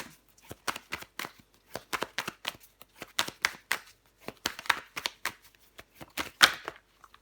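Tarot cards shuffled and laid out on a table, a run of quick papery riffles and flicks in uneven bursts, close and fairly quiet, with no talking.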